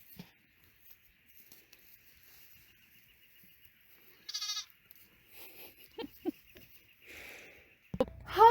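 Sheep on a farm during lambing season bleat in several separate calls, one sharp bleat partway through and a louder cluster toward the end, over an otherwise quiet background with faint rustling.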